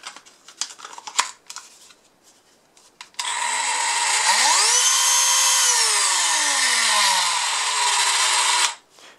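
A Dremel rotary tool starts after some light handling clicks, revving up to a loud, steady high-pitched whine that holds for about five seconds with a slight pitch dip, then cuts off abruptly.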